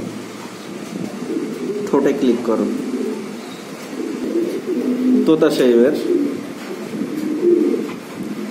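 Giribaz pigeons coo in soft, rolling bursts close by, two clear rounds of cooing that rise over someone talking steadily throughout.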